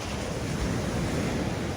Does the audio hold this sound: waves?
yes